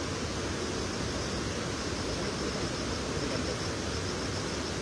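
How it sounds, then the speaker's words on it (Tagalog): Steady broadband rush of a river current at a street-corner fishing spot where cast nets are thrown, loud and continuous with no breaks, alone without voices. "may ingay ang agos"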